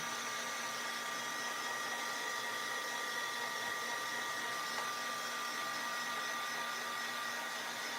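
A heat tool run on its lowest setting to dry a damp paper card blows a steady, even whirring hiss with a faint high motor whine, continuous and moderately quiet, with no talking.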